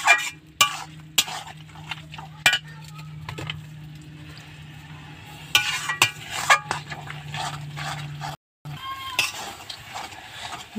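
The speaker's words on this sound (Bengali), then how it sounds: "এবার আমি ভালো করে নেড়েচেড়ে মিশিয়ে নেব" A ginger paste mixture stirred in a cooking pan while making a greens dish with fish, with scraping and clinking spoon strokes in irregular bursts over a faint steady sizzle, close and moderately loud.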